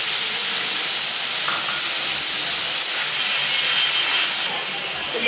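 Water poured into a hot pan of oil and spices, for a rohu fish curry with potato, ridge gourd and radish, sets off a loud, steady steaming hiss that eases slightly at the end.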